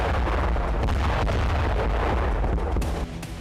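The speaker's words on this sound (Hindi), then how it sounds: "यहां पर रूसी सेना ने कुछ इस तरह से धमाके किए।" Explosions from Russian strikes on Ukraine's Kryvyi Rih airbase build into a dense, continuous rumble broken by sharper bursts and booms, loud and sustained throughout.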